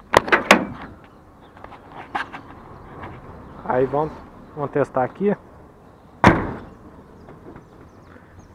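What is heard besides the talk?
truck door closing after latch replacement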